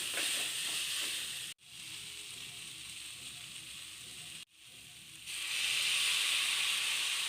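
Cauliflower and potato fry with turmeric and chilli in a pan, a loud, steady sizzle that runs throughout, broken by two brief gaps.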